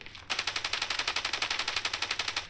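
Rapid automatic gunfire in the mobile shooter Standoff 2, a steady burst of about twenty evenly spaced shots lasting over two seconds, loud and close with no talk.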